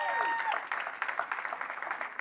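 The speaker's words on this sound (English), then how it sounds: "So just give them one more round of applause" An indoor audience breaks into a short round of clapping, dense and close at first and then thinning into scattered claps.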